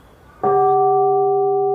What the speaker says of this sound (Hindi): तब अचानक मंदिर की घंटी की आवाज आने लगी।